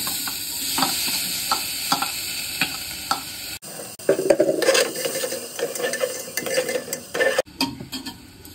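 Ginger and cumin being stirred in a pan, with repeated scraping strokes of a spoon over a soft, steady sizzle, loud and close, with a brief pause in the middle.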